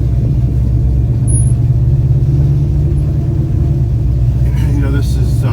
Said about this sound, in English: Let's take it for a ride. Here we are, 1972 Mach 1,